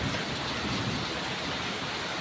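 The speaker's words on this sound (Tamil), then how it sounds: "மின்னிக்கிட்டே வந்து கனமழையாக பெய்யுதுங்க எங்கள் ஊரில்" Heavy rain pours steadily in a town in Tamil Nadu, a dense unbroken hiss with a low rumble of thunder beneath it, loud and constant throughout.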